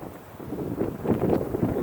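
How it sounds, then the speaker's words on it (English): Wind sweeps across an open hay field in Minnesota, a steady, rumbling rush that swells into stronger gusts partway through, with no voices. "It's kind of windy today"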